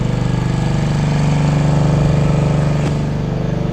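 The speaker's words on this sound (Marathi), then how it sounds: "1000 लिटरचा टँकर आहे बघा." A small 1000-litre water tanker truck runs its engine nearby, a steady low idling rumble with a regular throb that holds at constant loudness throughout, with no talk.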